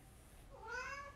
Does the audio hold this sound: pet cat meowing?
yes